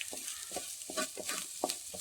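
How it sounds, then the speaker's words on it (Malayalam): Grated coconut, egg and onion stir-fried in a pan, with a steady sizzle under repeated scraping stir strokes at an irregular rhythm, close up and with no voices. "ഇനി എല്ലാം കൂടി ഒന്നുകൂടി ഒന്ന് ചിക്കിയെടുക്കാം"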